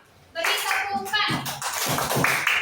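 Schoolchildren in an Indonesian classroom break into a sudden burst of lively group applause that carries on steadily, mixed with some children's voices.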